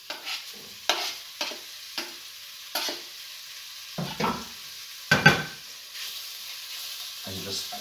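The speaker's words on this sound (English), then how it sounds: "In with the chopped streaky bacon." Chopped streaky bacon sizzles in a pan under a soft steady hiss, broken by repeated scraping stirs of a spoon. The louder scrapes and clatters come every second or so.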